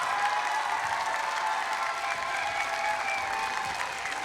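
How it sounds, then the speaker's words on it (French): An audience at a dance show applauds the dancers, a sustained even wash of many hands clapping, moderately distant and continuous throughout. "Donc encore un grand merci à ces danseuses, vous pouvez les applaudir"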